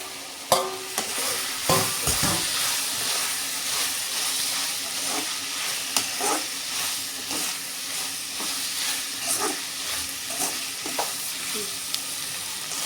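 Tomato and chopped coconut frying in a pan for a fish curry masala, with a constant loud sizzle and hiss and occasional scraping knocks from a stirring spoon.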